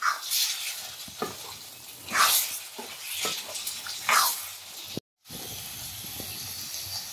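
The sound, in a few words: chicken pieces stirred in masala over high flame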